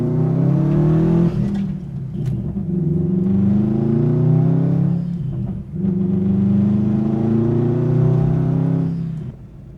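An abandoned, high-mileage Subaru WRX STI drives with a deep, rumbling boxer engine, accelerating through rising revs with brief dips at two gear changes, loud and close from inside the car.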